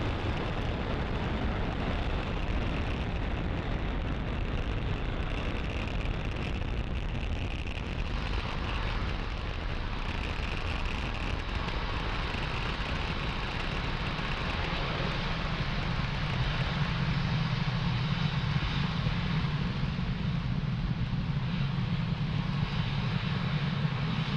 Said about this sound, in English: You are watching Falcon 9 accelerate spaceflight's Sherpa LTC-2 and our Starlink satellites out into space.